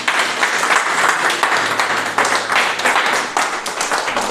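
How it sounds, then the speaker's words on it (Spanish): A church congregation breaks into loud, sustained applause, many hands clapping together continuously for several seconds. "¿Cuántos pueden darle un fuerte aplauso al Señor?"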